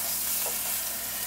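Chuck roast beef searing in olive oil in a pan over medium-high heat gives a steady, close, even sizzling hiss that stays loud for the whole short moment, with no talking.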